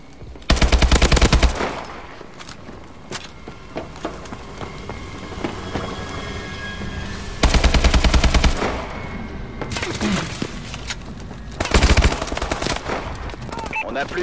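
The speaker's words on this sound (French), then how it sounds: "Tir de suppression!" Sustained suppressing gunfire in Call of Duty: Advanced Warfare Team Deathmatch, with three loud automatic bursts standing out over a continuous rumble of distant shooting and battle noise.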